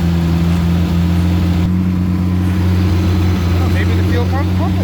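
A 1976 Mustang II Cobra engine with solid lifters idling steadily, a loud, close, even rumble with a faint ticking, while someone talks briefly over it.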